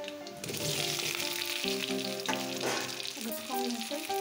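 Rice flour balls deep-frying in hot oil give off a steady, dense sizzle that runs unbroken, with light stirring noises and faint background music under it.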